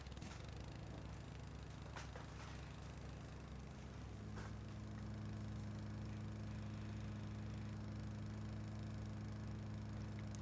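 In the video game Rising Star 2, a lawn mower mowing a field runs as a faint, steady engine drone with a humming pitch that shifts midway, plus a few sharp clicks early on.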